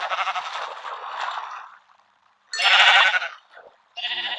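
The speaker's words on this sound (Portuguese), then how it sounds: "Deixa eu pegar uma ovelha" Sheep in a survival video game bleat in three separate bursts, loud and close, each a wavering nasal cry with short silent gaps between them.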